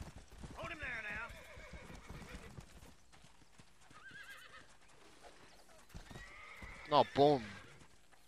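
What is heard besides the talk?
horse neighing and hooves in video game Red Dead Redemption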